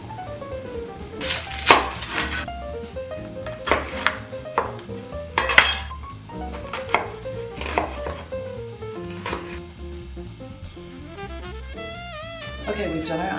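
Knife chopping an onion on a board in a home kitchen, a series of sharp, irregular knocks in close succession with clatter of dishes and utensils, loud and near, no talking.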